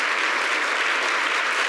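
An audience applauds a speaker, Dr. Levatino, with a dense, even burst of clapping from a large crowd, loud and continuous throughout.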